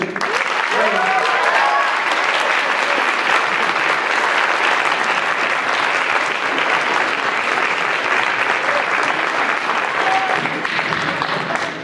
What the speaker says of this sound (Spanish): Recibamos con un fuerte aplauso a nuestro ponente